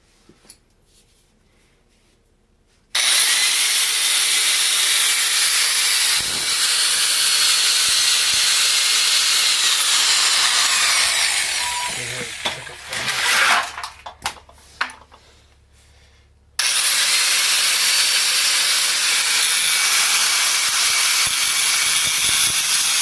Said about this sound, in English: I have a grinder and I'm going to use it here.